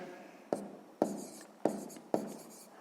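Pen writing a maths answer by hand for a sixth-grade exercise, four short distinct scratching strokes at a steady rhythm, close and moderately quiet, with no talking.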